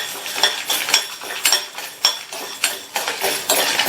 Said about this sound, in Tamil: இது கூட 1/2 டேபிள் ஸ்பூன் மிளகும் 4 காஞ்ச மிளகாவையும் சேர்த்து வறுத்துக்கங்க.